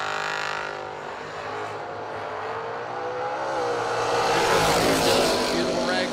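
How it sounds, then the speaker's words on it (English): Ragtop Camaro drag racing at a drag strip, with engines revving and building into a louder roar toward the end, heard under a track announcer's voice. "Beautiful ragtop Camaro up alongside."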